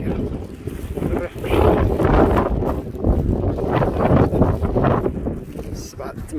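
Strong wind and rain sweep over the seafront at Al Hoceima in the early morning, a steady loud roar of gusts buffeting the microphone, with a voice talking over it throughout.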